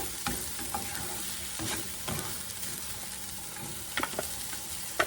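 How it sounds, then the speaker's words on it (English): Shrimp sizzle continuously in a hot skillet while a utensil stirs and scrapes through them, giving a few soft clacks and taps against the pan at close range. "I'm fixing to go ahead and toss my shrimp in here now."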